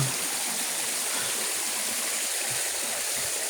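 A steady rushing river tumbling over rocks on the way to Mother Falls in Montalban, Rizal, close and constant, with no voices.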